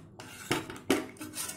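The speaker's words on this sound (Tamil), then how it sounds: "நல்லா மிக்ஸ் பண்ணிவிடுவோம்." A spoon scraping and stirring in a metal cooking pot of Tamil kulambu with tamarind water, two sharp clinking strokes against the pot over a low simmering background, close and fairly loud.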